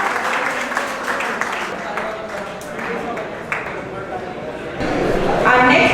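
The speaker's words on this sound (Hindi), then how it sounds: "Please give a big round of applause for Gautam Raj and Deepak Dev." Cadets at a farewell ceremony clap for award winners, a steady sustained round of applause under talk and background voices, swelling louder toward the end.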